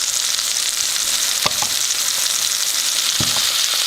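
Real butter melts in a skillet with a loud, steady sizzle and hiss, punctuated by a couple of brief clicks near the pan.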